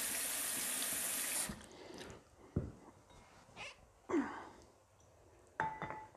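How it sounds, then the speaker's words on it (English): A kitchen tap gushes loudly into a bowl for hot water for about a second and a half, then stops, leaving small clinks, drips and handling sounds. "I might just get a bowl of hot warm water"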